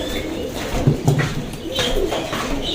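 Pigeons coo in a loft, several soft, throaty rolling coos repeating close by, with scattered shuffling and background noise from the birds around them.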